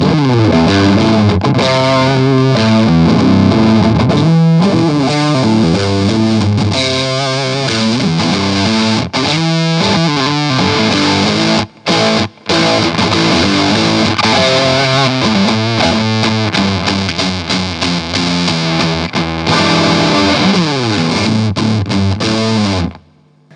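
Electric guitar through a Ritual Devices Evol distortion fuzz pedal plays thick, sustained riffs and chords, loud and saturated, with a brief break near the middle before resuming.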